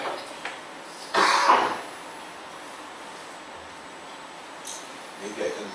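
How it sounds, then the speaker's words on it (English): A single short, loud cough sounds close by, followed by quiet room tone and a couple of faint throat sounds. "I'm sorry, really sorry about my cough."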